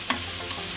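Fresh garlic fries in a pan, giving a brief, close, steady sizzle with a single small clink at the start of the stirring.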